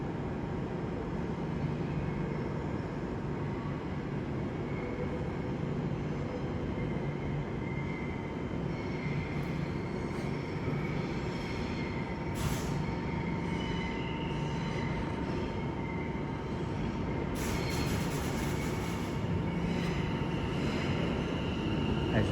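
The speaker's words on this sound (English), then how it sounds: "a terminating London Overground service comes in from Enfield down, which is 710-106" A London Overground class 710 electric train, unit 710-106, pulls into a London terminus from Enfield with a steady rumbling roll. A faint squeal and clunks rise near the end, and there is no talking.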